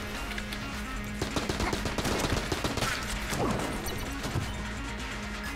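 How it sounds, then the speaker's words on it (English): A Tommy Gun fires in Enter the Gungeon, rattling out rapid, sprayed automatic bursts mixed with crashing impacts and smashes, steady and fairly loud throughout. "but that's the nature of the Tommy Gun. It sprays and prays."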